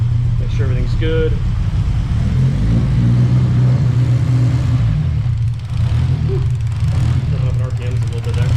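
A turbocharged 8th-gen Honda Civic Si engine idles loudly and steadily, then climbs slightly in RPM with a low, continuous drone and a mild rise in pitch, close by, with people talking over it.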